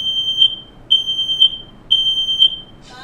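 A smoke alarm going off in a kitchen where steaks are being cooked, repeated loud shrill electronic beeps in a steady rhythm with short gaps, alone and close.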